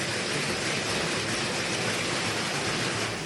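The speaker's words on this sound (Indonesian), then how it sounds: "hujan es sebesar kerikil berjatuhan dari langit" Gravel-sized hail pelting down on the slopes of Mount Merapi makes a dense, steady hiss of countless impacts, loud and unbroken throughout with no voices.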